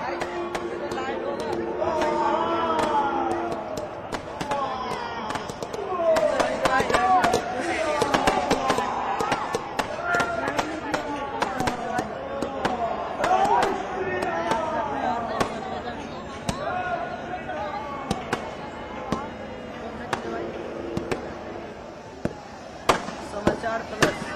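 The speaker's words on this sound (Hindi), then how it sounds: "एक तरफ नोएडा की आतिशबाजी आप देख रहे हैं" Dussehra fireworks over Noida pop and crackle in scattered sharp bursts throughout, partly masked by steady talking on top.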